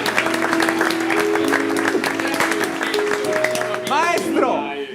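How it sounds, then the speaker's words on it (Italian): Audience applause at an Italian music show for a singer, steady dense clapping throughout with band tones and voices mixed in, cheering rising near the end. "applauso!"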